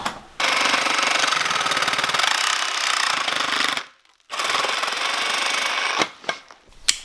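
Glued pipe on an off-grid homestead is cut with a power tool, a loud, close, steady buzzing grind that pauses briefly midway, then resumes and ends in a few short bursts.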